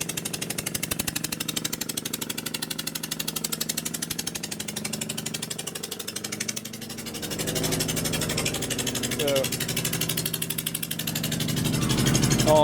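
An old Toyota Camry engine running at idle outdoors, a loud, rough, evenly pulsing chug like a tractor, rising slightly as the revs lift near the end.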